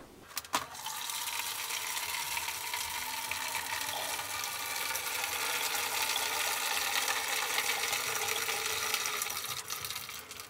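Coolant liquid gurgles and pours steadily out of a PC watercooling reservoir after its top plug is opened, a continuous close trickling splash preceded by a brief click.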